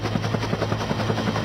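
Helicopter in flight with steady, rapid rotor thumps pulsing evenly through a short stretch, moderately loud and alone without voices.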